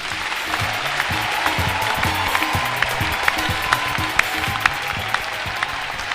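Church congregation clapping along in steady rhythmic applause, a dense continuous crowd sound with musical tones underneath and sharp claps rising above, at a worship service.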